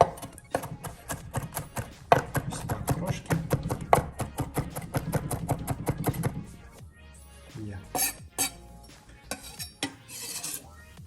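A knife shreds vegetables for guacamole on a cutting board, rapid rhythmic chopping strokes for several seconds, then a few slower scattered cuts, with a voice talking intermittently.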